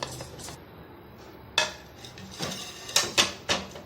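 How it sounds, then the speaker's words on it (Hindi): Chopped chillies for a spicy chutney tipped into a kitchen food chopper, giving a few sharp clattering knocks of the chopper bowl and utensil, close and alone after a quiet stretch. "ये चॉपर में डाल दी"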